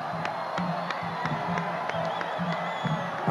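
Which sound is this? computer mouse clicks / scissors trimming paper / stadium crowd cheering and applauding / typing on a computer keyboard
stadium crowd cheering and applauding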